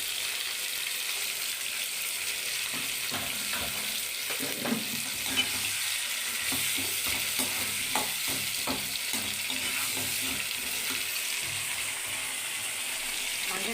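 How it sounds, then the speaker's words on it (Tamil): Tomatoes sauté in a pan for egg gravy, a steady soft sizzle with intermittent scraping and stirring strokes of a spoon throughout, no voices. "தக்காளி கொஞ்சம் வதங்கட்டும்."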